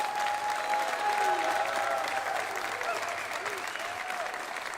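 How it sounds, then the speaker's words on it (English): Applause from a crowd at a university basketball coach introduction event, sustained clapping across the whole stretch, with a faint whistle-like tone and some murmuring beneath. "How about a round of applause for them?"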